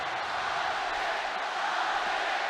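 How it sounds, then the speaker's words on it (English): A crowd roars behind the stage at a League of Legends esports match, a steady, muffled wash of cheering held at a moderate distance without any clear individual voices. "you can hear the stage behind them, the crowd roaring"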